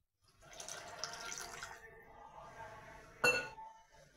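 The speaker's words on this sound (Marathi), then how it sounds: "तर मी पाणी टाकते थोडंसं त्याच्यामध्ये. पाणी टाकते मी रश्शाला." Water poured into a pot of spicy mutton curry, with a soft running trickle and a single sharp clink of a vessel near the end, close and fairly quiet.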